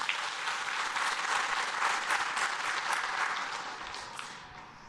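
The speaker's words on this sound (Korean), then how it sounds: "박수로 맞이하겠습니다." Congregation clapping during a Sunday church service to welcome the pastor, a full, sustained round of applause from many hands that gradually thins out toward the end.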